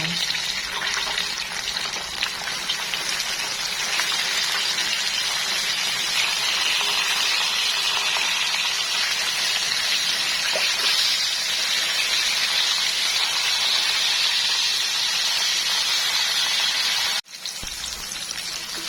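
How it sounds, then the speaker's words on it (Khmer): Chicken wings go into hot oil for a second deep-fry, giving a steady, dense sizzling hiss that continues without a break for most of the time before a brief cutoff near the end. "បន្ទាប់មកយើងដាក់សាច់មាន់យើងបំពងម្ដងទៀតណាបងប្អូនចា"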